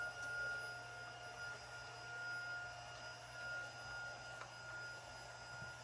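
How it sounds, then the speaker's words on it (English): A Tineco vacuum sucks dust from a Shark vacuum filter, giving off a steady, faint mechanical whine and hum that holds level throughout with only slight swells. "So this one I'm just going to vacuum, but you can use water on this as well."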